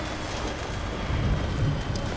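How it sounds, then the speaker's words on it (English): Steady rain hiss with a low rumble of thunder rolling in partway through in the video game Death Stranding, continuous and fairly loud, no voices. "Ah, crap. It's back to raining."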